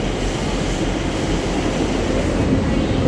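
A train bound for Liverpool runs at Chesterfield station, a loud, steady rolling rumble of carriages and wheels on track that holds constant for the whole stretch.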